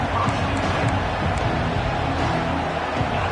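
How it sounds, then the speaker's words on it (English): Football stadium crowd at a Georgia vs Kentucky game after a kickoff return, a steady dense roar of murmuring and cheering voices filling the background, with faint commentary under it. "this crowd is buzzing after that last score"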